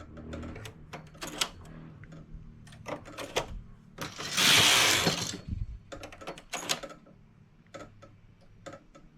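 A knitting machine clacks as its needles are selected and worked, with rapid irregular ticking and clicking plus one longer whooshing sweep of the carriage across the bed, heard close up and loud.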